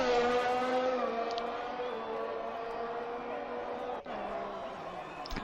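A race car in a racing video game at a British track screams past at high revs, its engine whine loud and sustained, dipping briefly as it crosses the line while a commentator talks over it.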